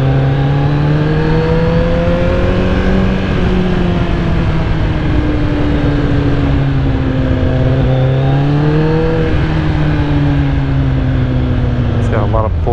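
Kawasaki ZX14R motorcycle engine held at a steady high drone, rising and dipping gently with the throttle, loud and continuous throughout.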